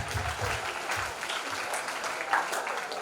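Steady applause from a crowd at an awards event honoring a state ambassador, sustained clapping of moderate loudness from many hands throughout, with no talking.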